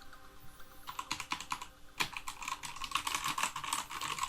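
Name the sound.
typing on DA Meca Fighter Ice TKL mechanical keyboard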